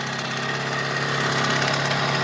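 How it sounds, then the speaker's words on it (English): A Yamaha DT175 motorcycle engine runs steadily with a worn transmission rattling, a continuous buzzing drone full of fine mechanical clatter, close and moderately loud. "What you hear, that rattling, is the transmission."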